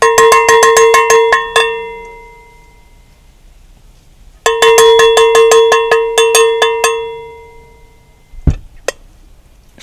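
Harbor Freight cowbell struck in two fast bursts of sharp, ringing metallic clanks, each burst decaying, followed by a few scattered louder hits; close and loud with no talking.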